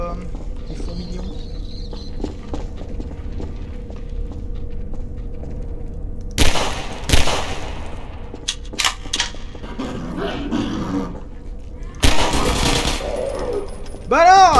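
Gunfire aimed at antlions in Half-Life 2 Episode One, heard as a few sharp broadband bursts around the middle and near the end, standing out over a steady low game-ambience hum.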